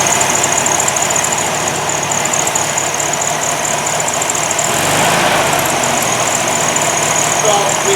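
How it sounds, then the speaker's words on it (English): A classic Volkswagen engine with a stock carburetor idles steadily with a continuous rumbling drone and a slight knocking vibration, close and fairly loud, with no voices over it. "we'll just start the engine, and you can hear what it sounds like."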